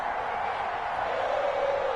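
Crowd cheering in a stadium before a Pittsburgh Steelers versus Cincinnati Bengals NFL game, a broad, steady roar of many voices, distant and continuous for a couple of seconds.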